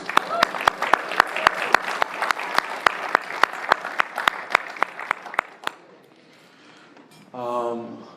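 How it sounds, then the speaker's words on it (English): An audience at a step meeting gives a round of applause: crisp, evenly spaced claps up close that thin out and stop, followed by a short pause and then a voice speaking. "help me give Terry one more round of applause"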